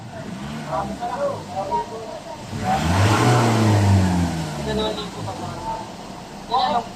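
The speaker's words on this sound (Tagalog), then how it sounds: "Gas natin. Tingnan natin kung palyado." A car engine is revved up once and held for a couple of seconds, then allowed to fall back to idle during a check for misfiring. It is close and steady, and someone talks over the quieter parts.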